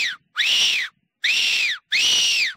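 A Silva Fox whistle is blown in three strong, shrill blasts, each held for about half a second, with short silent gaps between them, loud and close.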